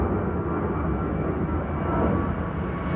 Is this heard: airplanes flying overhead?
yes